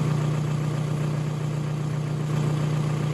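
A 1999–2003 VW TDI ALH diesel engine idles steadily with a constant low hum and engine vibration, running alone at an even level without voices.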